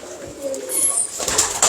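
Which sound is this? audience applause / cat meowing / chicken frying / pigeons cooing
pigeons cooing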